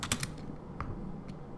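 Keys clatter on a computer keyboard during market chart setup, a few quick close taps at the start, then scattered single keystrokes, with no talk.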